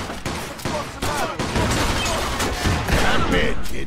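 Dense gunfire fills a Mafia II shootout, rapid overlapping shots and bursts layered into a continuous loud fusillade, close and unbroken for several seconds.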